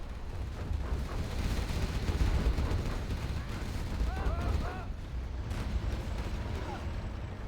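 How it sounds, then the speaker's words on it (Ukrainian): Booms of cannon fire from captured gun platforms in a strategy video game battle, with a dense, continuous rumble of artillery and clashing combat noise, loud throughout and sometimes overlapped by a commentator's voice. "тут гарматні платформи захопив собі Да Вінчі, і зараз під прямим вогнем знаходяться майстри бою від Ліфтрака."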